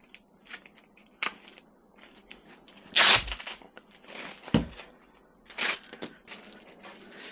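A commercial tourniquet is pulled off an arm, making a series of close, loud ripping and crackling bursts, irregular and separated by short pauses, with no speech.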